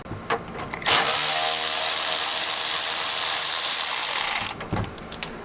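Ratchet with a 10mm socket loosening a bolt on an AC line of a 1990-1997 NA Miata, a close, continuous rasping clicking that lasts a few seconds before stopping, with no talk.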